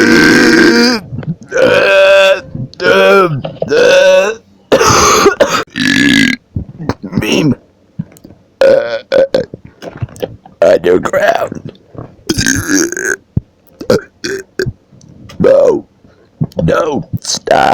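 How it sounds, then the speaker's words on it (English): A person lets out one loud, drawn-out burp after another, the bursts separated by brief pauses and quiet gaps. "I'm tired of burping, actually."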